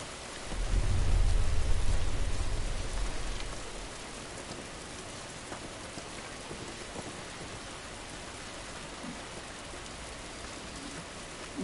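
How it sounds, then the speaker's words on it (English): Steady rain pours on surfaces in a video game, with a deep rumble of thunder rolling in the first few seconds before fading, leaving a constant hiss of rainfall. "This rain ain't gonna do us any good."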